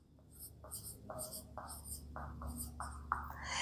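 Pen or marker strokes during a biology lesson, a string of short scratchy bursts in a steady rhythm, close and fairly quiet over a low background hum.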